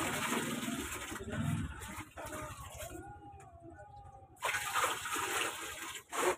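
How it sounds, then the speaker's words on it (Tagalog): Tap water gushes loudly from a faucet for rinsing during a bath with collected rainwater, a steady splashing stream that cuts out briefly midway, then returns at full strength. "magbabanlaw po banlaw sa gripo."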